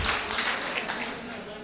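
Audience applause at an open-air mushaira, a short burst of crowd clapping that starts loud and gradually thins out.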